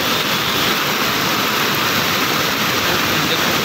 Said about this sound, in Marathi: खूप पाणी आलेलं आहे.